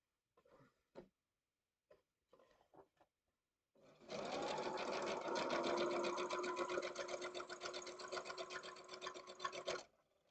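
After a few soft taps and clicks, a sewing machine runs a straight seam on a Hunter Star quilt piece, its rapid, steady needle chatter lasting about six seconds before cutting off.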